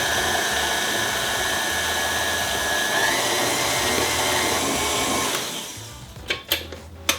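A stand mixer fitted with a whisk attachment beats sourdough chocolate chip cookie dough, giving a steady, loud motor whir with a high whine for about five seconds before it winds down, followed by a few brief clanks.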